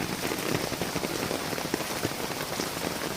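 Rain patters steadily and densely on an uncovered motorcycle close by, a constant hiss with individual drops ticking throughout.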